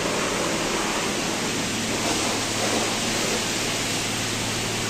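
A pressure washer at a car wash sprays in a continuous dense hiss, loud and close, steady throughout without pauses.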